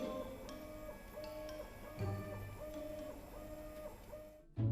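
A 3D food printer prints a plant-based steak of beetroot, seaweed, pea protein and algae, with soft regular mechanical ticks and a faint whirring hum, ending in a sudden louder thump.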